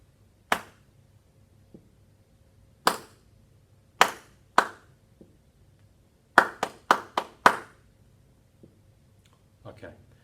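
Hands clap a rhythmic dictation pattern: scattered sharp claps with gaps, then a quick cluster of five claps near the middle-end, plus faint softer taps, close and clear with no talking.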